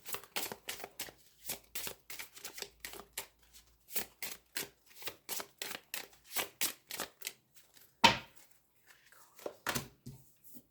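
Tarot cards being shuffled by hand in quick bursts of riffling and slapping, separated by brief pauses, close and fairly quiet.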